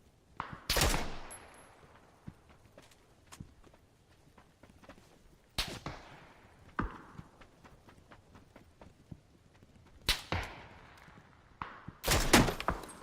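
Sporadic sharp gunshots crack out in PUBG, spaced irregularly with single shots and short bursts, between quieter footstep-like thuds and rustling, fairly loud and close.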